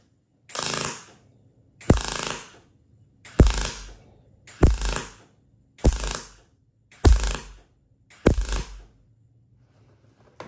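A Miller 255 welder with a push-pull gun lays short bursts on thin 18 gauge aluminum, about seven evenly spaced crackling bursts of roughly a second each with quiet gaps between.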